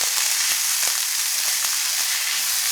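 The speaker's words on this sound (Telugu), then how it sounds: "అందులోకి ఇప్పుడు అల్లం వెల్లుల్లి 1 టేబుల్ స్పూన్ వేసుకొని ఫ్రై చేసుకోండి." Ginger-garlic paste frying in oil with browned onions in a pan on medium flame, a loud, steady, dense sizzle with faint crackles throughout.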